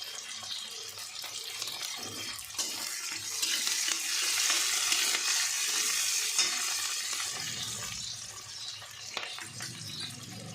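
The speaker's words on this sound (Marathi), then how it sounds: "कांदा थोडासा लाल करून घ्यायचा आहे आपल्याला, तर हे आपण आता कढीपत्ता टाकून घेतो" Onion and curry leaves fry in a pan for tomato chutney, giving a steady wash of sizzling that swells in the middle. A spatula stirs and scrapes through it, with no voices.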